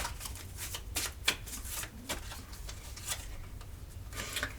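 Tarot cards being reshuffled by hand, giving repeated soft riffling bursts and light card taps at close range, with a faint hum in the background and no talking.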